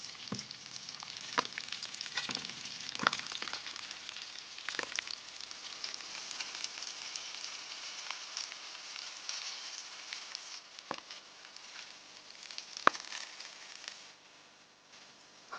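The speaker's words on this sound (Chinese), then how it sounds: "煎羊排出锅" Cumin-and-chili-dusted lamb chops sizzle faintly in a pan outdoors on the grassland, a soft, continuous crackle broken by scattered sharper pops and ticks, with no talking.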